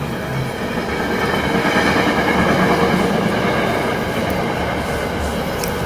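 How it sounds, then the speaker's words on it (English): A train rumbles steadily past at a moderate distance, a continuous loud roar with rail clatter and a faint squeal, holding at an even level throughout. "Forgive the train in the background."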